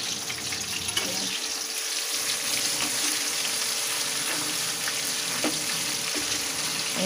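Food fries in plenty of oil with a continuous hissing sizzle up close. A few soft clinks and stirring sounds come through, and there is no speech.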